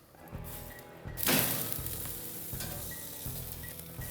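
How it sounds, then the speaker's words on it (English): Steak sizzles loudly on a hot grill with all vents open, a sharp burst of searing as the meat goes down, then a steady crackling hiss with faint low background tones. "All vents are open, the steak can go in."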